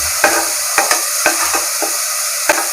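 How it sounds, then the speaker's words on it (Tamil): Ginger garlic paste sautéing in a pan over a low flame, a soft steady sizzle broken by a handful of sharp spoon scrapes and taps at an uneven pace. "இஞ்சி பூண்டு பேஸ்ட்டு வந்து நீங்கள் வதக்கும்போது சிம்மில் வச்சு வதக்கி விடுங்க"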